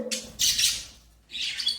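Pet birds chirping in short, bright bursts, three quick calls close by with a brief pause before the last.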